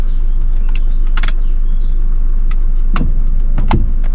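Several sharp mechanical clicks and clunks of a handbrake inside a car over a steady low engine rumble, with a quick rattling burst and two distinct clicks near the end.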